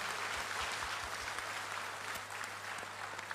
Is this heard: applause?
yes